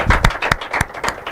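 Short burst of audience applause at a school quiz and debate competition, several uneven loud claps in quick succession with nobody speaking over them.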